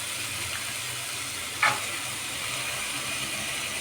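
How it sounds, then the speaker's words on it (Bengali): Soaked kidney beans going into a pan of sizzling fried spice masala, a constant frying hiss with one brief louder splash-crackle as they drop in, no talking. "আমি এর মধ্যে এই যে রাতে ভিজিয়ে রাখা রাজমাগুলো দিয়ে দিচ্ছি"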